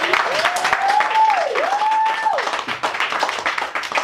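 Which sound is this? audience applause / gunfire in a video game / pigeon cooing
audience applause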